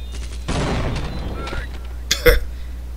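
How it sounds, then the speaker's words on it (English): Grenade explosion in the Half-Life video game, a short loud blast near the end of the clip, preceded by dense game noise and scattered effects. "They hurt themselves with a grenade."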